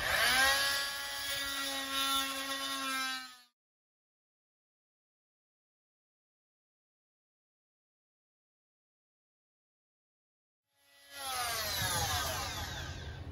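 A power saw cuts a window opening through the log wall of a cabin under construction, in two loud, steady, whining bursts separated by several seconds of silence.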